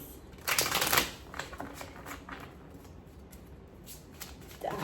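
Tarot cards being shuffled by hand, a close, crisp riffling burst at the start followed by softer intermittent card shuffling and flicks in a quiet room.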